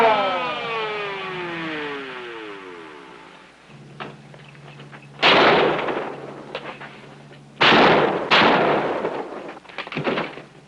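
Gunfire from men shooting in a 1959 crime drama, a few sharp loud shots spaced seconds apart, the first ones following a fading whine and low rumble, with no speech.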